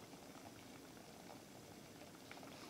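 Liquid boiling in a hot evaporating dish during a lab separation of a mixture, a steady, faint bubbling hiss with small pops, continuous and even throughout.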